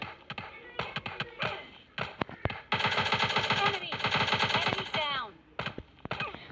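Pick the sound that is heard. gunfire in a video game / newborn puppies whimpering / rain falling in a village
gunfire in a video game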